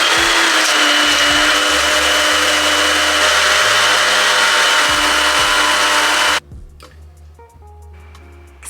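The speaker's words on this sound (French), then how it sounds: "J'ai un Nutribullet qui est changé mais là j'ai le Smeg qui est sorti" A Smeg blender runs at a loud, steady whir for about six seconds and then cuts off abruptly, leaving quiet room sound with faint clinks.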